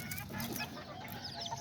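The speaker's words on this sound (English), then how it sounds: "These are the little hens" Young hens and roosters cluck and chirp softly at close range over a low, steady background murmur, a brief flurry of small calls.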